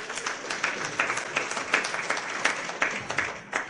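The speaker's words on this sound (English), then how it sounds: "Now you applaud." An audience at a disclosure lecture breaks into applause, a full, steady patter of many hands clapping with slight rhythmic swells, moderately loud and heard without talk over it.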